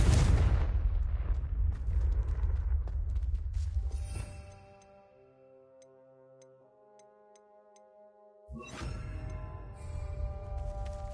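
A Confringo blasting spell in the Hogwarts Legacy video game bursts out as a loud, dense explosive roar, drops into a quiet stretch of lingering chimes and tones, then a second heavy blast surges back in.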